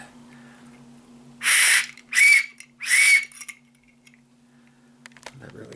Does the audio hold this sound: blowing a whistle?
yes